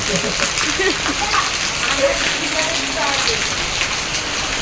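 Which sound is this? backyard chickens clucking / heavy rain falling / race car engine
heavy rain falling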